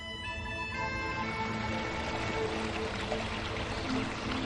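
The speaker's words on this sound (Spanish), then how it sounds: "Nuevamente, el río Irati es el protagonista." The Irati river flows through a limestone gorge in Navarra, a soft continuous rush and trickle of water heard fairly quietly under a fading musical tone.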